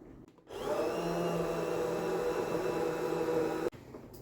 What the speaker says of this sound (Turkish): Blenderımdan geçirdiğim çorbamı rondo dedim ama el blenderımdan geçirdim